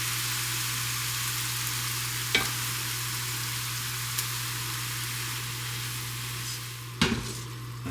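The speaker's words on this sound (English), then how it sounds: "We're just going to go ahead and add my lamb ragu right to the zoodles." Lamb ragu sauce stirred into zucchini noodles in a hot pan, a steady sizzle running throughout with a couple of sharp utensil scrapes against the pan.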